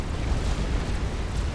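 A nuclear blast in the real-time strategy game Supreme Commander: Forged Alliance during an 8v8 match, heard as a loud, sustained, rumbling roar of explosion noise filling the whole stretch with no voices.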